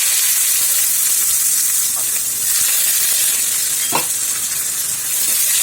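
Mustard seeds, fenugreek, cumin and onion hit hot oil for a Tamil home-cooked tempering, giving a loud, continuous sizzle with a few sharp crackles and pops.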